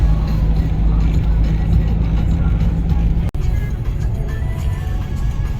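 A truck loaded with straw drives along a road, heard as a loud, continuous low engine and road rumble from a nearby vehicle, briefly cut by a sharp dropout partway through.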